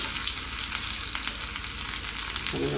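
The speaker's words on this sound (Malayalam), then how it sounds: "ചുമന്നുള്ളി ഇത് മൊരിയട്ടെ." Steady close-up sizzling of shallots frying in oil, a constant hiss with light stirring scrapes.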